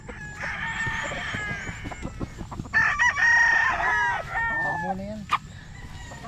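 A rooster called Golden Boy crows loudly and close by, a long drawn-out call with clucking from other chickens around it and a brief word spoken at the start.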